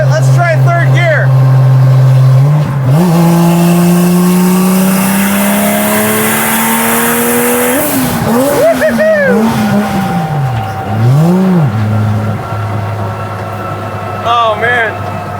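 A turbocharged 2JZ-swapped 1968 Dodge Charger pulls hard in third gear, its engine note climbing loud and close in rising sweeps, with turbo whoosh and speech over the roar.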